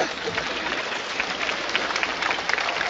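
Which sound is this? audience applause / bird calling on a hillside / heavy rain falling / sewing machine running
audience applause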